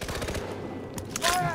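AK rifle fire in Far Cry 4, a rapid rattle of close shots early on, a brief lull, then another loud burst with ringing metallic tones near the end.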